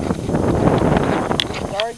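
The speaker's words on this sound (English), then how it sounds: "Sorry again for the wind." Outdoors by a lawnmower, gusting wind batters the microphone with a rough, rumbling buffet, loud and close, while someone speaks over it.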